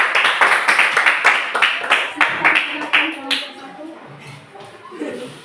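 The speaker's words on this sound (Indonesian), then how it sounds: "tepuk tangan untuk kelompok 1" Classroom of students clapping together for a presenting group, a dense burst of applause that fades over a few seconds, with some voices starting to talk at the end.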